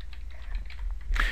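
Keys clatter on a computer keyboard while working in an Excel spreadsheet, a quick run of soft clicks over a low hum, ending in a slightly louder burst of keystrokes.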